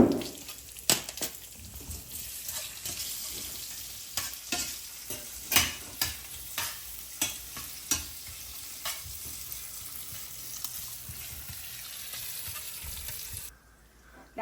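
Pancetta fries with a soft, steady sizzle in a pan while a utensil scrapes and stirs in a series of sharp, rhythmic taps, all fairly quiet and without talk.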